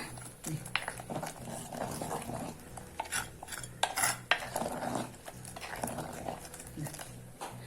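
A pot of boiling Kerala sambar being stirred, with repeated scraping and clattering of a spoon against the metal over a low simmer, and someone talking intermittently.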